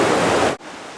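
A brook runs beside a hiking trail on Franconia Ridge, giving a steady broadband rush of water up close that cuts off abruptly and is followed by a quieter, softer flow.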